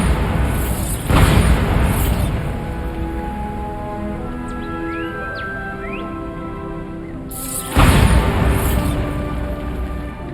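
A Bombarda explosion spell goes off in Hogwarts Legacy, a loud booming blast near the start and another around the eight-second mark, separated by a rumbling stretch with faint bird-like calls and chimes.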